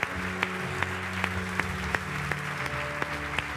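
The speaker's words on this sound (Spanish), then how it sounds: "comienza a aplaudir en esta noche" A church congregation claps in a steady rhythm during worship, the sharp beats repeating over sustained keyboard-like tones, fairly quiet and without speech.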